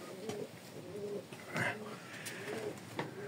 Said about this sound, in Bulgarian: Гледам от 15 години турски гълъби за игра.